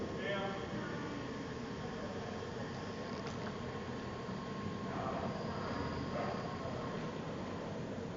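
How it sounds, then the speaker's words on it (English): A low, steady rumble of a passing freight train, heard from a distance inside a railway tunnel in Royal National Park, beneath a constant noisy wash. "That's the freight train."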